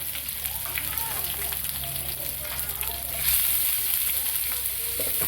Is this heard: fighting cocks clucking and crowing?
no